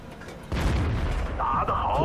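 A tank cannon firing in World of Tanks, one sudden heavy boom about midway that holds a rumbling tail, and someone talking over the end of it.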